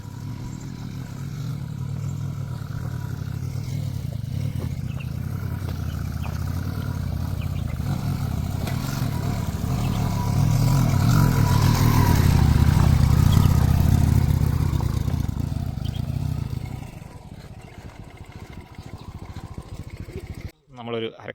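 A vehicle engine labours in first gear up a steep off-road dirt track near Palakkayam Thattu in Kerala, a steady drone that swells louder midway and then drops off, with rattling over it.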